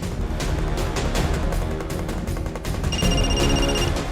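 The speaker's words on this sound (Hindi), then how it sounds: "रिंग हो रहा है।" Mobile phone ringing with a repeating electronic tone that cuts in over a dense, steady background of music and ambience, moderately loud and continuing for about a second.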